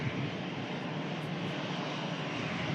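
Airliner engines roaring at an airport during plane spotting, a continuous loud broadband rumble with no pauses, close and steady throughout.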